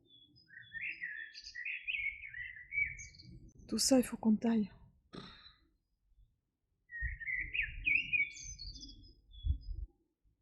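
Birds chirp and tweet outdoors in short, bright bursts with gaps between them. A person speaks briefly partway through.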